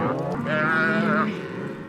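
A cattle herd held in a temporary corral during a spring roundup in Montana lets out a long, loud, close moo that rises and falls, with other cattle lowing faintly behind it.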